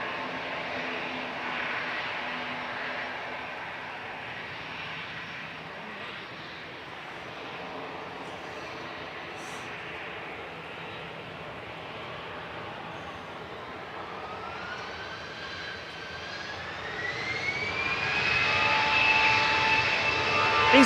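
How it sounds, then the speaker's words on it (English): An EasyJet airliner departs Manchester Airport for Berlin with a steady, broad jet roar that holds throughout and swells louder toward the end as it climbs, with a rising engine whine joining in over the final seconds. "EasyJet departing to Berlin."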